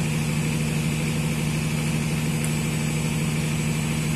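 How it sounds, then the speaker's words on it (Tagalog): A generator runs inside a control room, giving a steady, loud engine hum with a strong low drone that stays constant and unbroken throughout, with no voices. "maingay kasi umandar yung generator"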